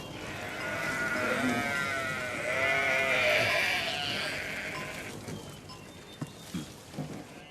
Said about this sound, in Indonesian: Lihatlah, mereka sengaja membiarkan domba-dombanya tadi gembalakan.